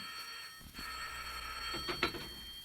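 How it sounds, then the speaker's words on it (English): An old-time radio drama telephone effect rings beside a bed, a bright tonal electric bell with a couple of bursts over steady background hiss, moderately loud and unaccompanied by talk. "the phone by her bed rang and she answered it in person"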